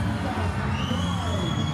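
Rugby stadium crowd during a match: a continuous wash of loud, distant cheering and roaring with no break and no clear single voice.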